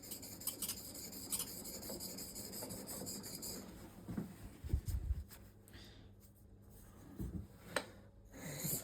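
The iron from a Juuma No 4 bench plane is rounded over on a sharpening stone, giving close, faint rasping strokes in an uneven rhythm with short gaps and a few soft knocks.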